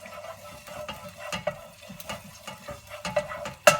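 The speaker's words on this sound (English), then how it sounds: "So I'll just pop some garlic in. And just gently cook that off in the oil." Garlic frying gently in oil in a pan: a soft, steady sizzle with small ticking pops and occasional scrapes of stirring, quiet and close, ending in one sharper clink.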